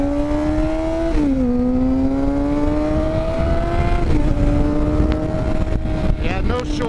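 A motorcycle engine revs and pulls hard under acceleration, a loud, close droning tone that dips briefly then climbs steadily through the gear, with wind roar underneath.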